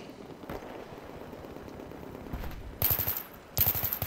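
A first-person shooter on PC lets off two loud bursts of rapid automatic gunfire near the end, preceded by quieter game ambience and a faint distant shot.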